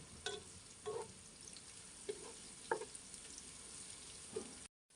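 Onions fry in a pan for a chicken curry with papaya, a soft, low sizzle broken by several light spatula clinks and scrapes spaced a second or so apart.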